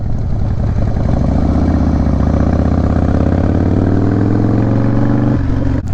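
A 2017 Harley-Davidson CVO Breakout rumbles steadily and loudly up close as it rides a lap around a riding academy range, its deep V-twin drone shifting pitch slightly before easing off near the end.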